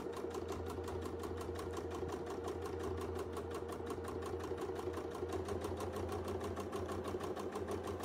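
A sewing machine runs steadily in free-motion stitching with lightweight thread, looping a circular pattern; the fast even motor hum and rapid needle rhythm hold unbroken and close for the whole stretch.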